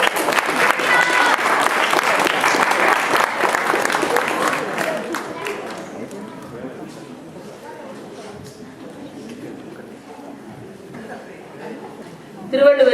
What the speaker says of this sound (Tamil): இதோ கைத்தட்டி வள்ளுவரை வரவேற்கலாமா?